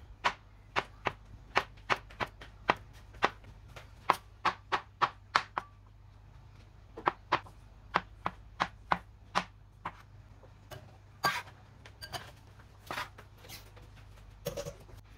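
Fresh mushrooms are sliced on a cutting board with sharp knife taps, close and crisp: a quick regular run of cuts, a short pause, then another rhythmic series ending in a few looser strokes.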